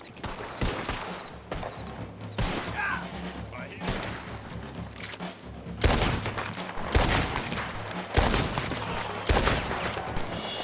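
Video game gunfire comes in repeated sharp bursts and volleys, loud and close, with voices talking throughout.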